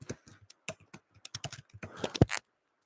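Rapid clattering keystrokes on a computer keyboard, irregular bursts of clicks close up, building to a few heavier taps near the end, with no voices.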